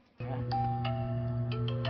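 A bright chiming notification bell rings out in a quick sequence of clear, ringing tones that sustain and overlap, close and loud, standing alone without talk.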